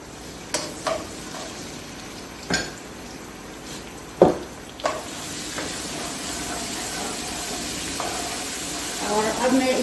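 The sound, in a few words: garlic frying in a pan for beef karahi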